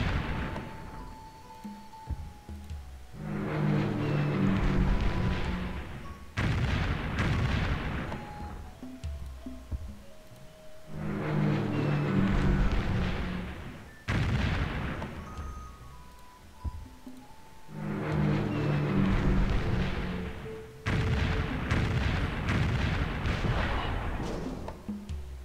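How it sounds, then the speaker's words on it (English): Explosions and artillery fire in Civilization III, where half-tracks blow up: several booming, rumbling blasts in repeated bursts, each swelling and fading, loud and alone. "that's not the top of the half-track that comes flying out when it explodes"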